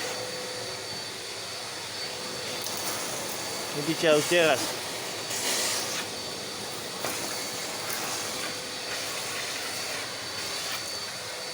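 A Makita VC2512L vacuum cleaner, running after being cleaned, gives a steady broadband whir that lasts throughout. Someone speaks briefly over it.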